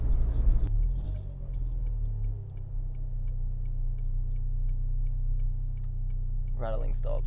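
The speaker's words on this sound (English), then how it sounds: "Something is fucking rattling in my car, bro." Steady, fast ticking rattle inside a moving car, a small loose part clicking evenly over the low engine and road rumble, with a brief thump near the start and a short burst of voice at the end.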